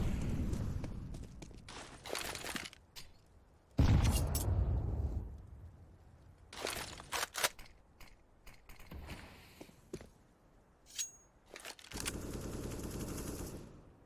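A grenade blast in a Counter-Strike: GO esports match, one sharp loud burst near the middle amid scattered gunfire bursts and clatter, with a longer roar of fire toward the end.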